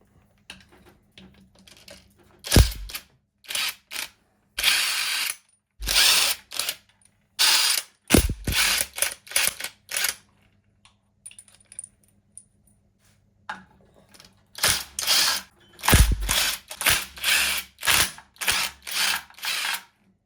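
Bursts of rapid ratcheting clicks from a hand wrench undoing 13 mm bolts on a Volkswagen T3 Syncro gearbox, coming in several separate runs with short pauses between, close and fairly loud.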